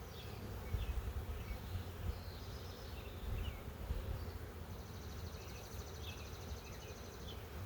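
Honeybee workers buzzing around an open hive during an inspection, a dense, continuous hum close by with individual bees droning past at varying pitch, and no talking.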